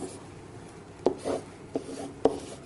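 A pen writes on an interactive SmartBoard, giving a soft rubbing scrawl with three sharp taps as the tip meets the board, close by and fairly quiet.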